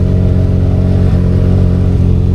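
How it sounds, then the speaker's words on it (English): A modified, non-stock Can-Am Maverick R side-by-side engine roars loud and close during a ride, a dense sustained drone with slight pitch dips, running alone without talk. "This is my first ride in a Mav R."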